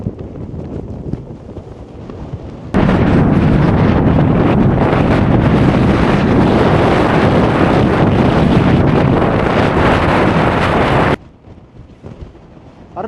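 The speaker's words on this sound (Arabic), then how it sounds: "لا الخوت الريح قوي" Strong wind buffets the microphone on a roadside walk, a loud, steady roaring rumble that surges in abruptly and holds for several seconds before dropping back to quieter gusts.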